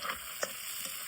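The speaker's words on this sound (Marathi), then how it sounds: "बघा कांदा कसा मस्त परततोय" Chopped onion fries in smoking-hot oil for a mushroom curry, giving a brief, faint hiss with a soft stirring scrape partway through.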